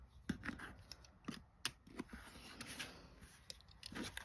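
Scissors snip through quilt fabric for a double friendship star block, a series of short crisp cuts at an uneven pace, close by and fairly quiet, with no talking.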